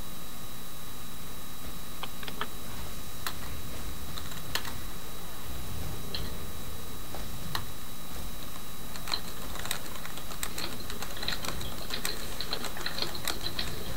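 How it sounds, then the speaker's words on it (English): Rapid keyboard typing clicks in irregular bursts, fairly close, over a low steady background hum with no talking. "I can hear myself typing in your speakers."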